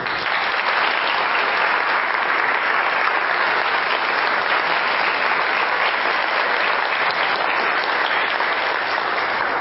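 An audience at a church sermon bursts into sustained, loud applause, a thick wash of clapping that carries evenly across the whole stretch.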